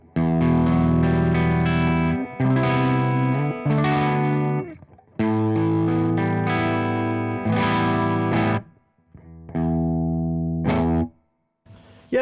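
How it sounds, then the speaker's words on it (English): A Les Paul electric guitar played through the clean channel of a Marshall amp with no pedals, its hot pickups giving slight grit; strummed chords ring out in loud phrases with brief pauses and a few short gaps. "Let's have a little play of this Les Paul and see how this sounds through the Marshall with nothing else on it."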